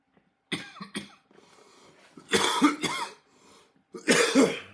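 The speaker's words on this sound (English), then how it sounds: "Why am I still coughing?" Several harsh coughs in quick bursts, close up: a couple of short ones early, then two longer, heavier coughing fits, with quiet pauses between.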